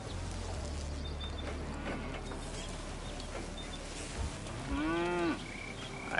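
Cattle in the survival game Surviving the Aftermath give a low, drawn-out moo near the end, heard over a steady mechanical hum and faint ambient game noise.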